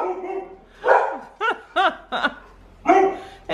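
Several dogs bark in short, separate bursts at moderate distance, with a few yips and whimpers in between, and no talking.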